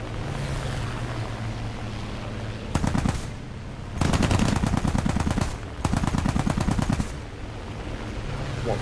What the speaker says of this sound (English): More machine guns.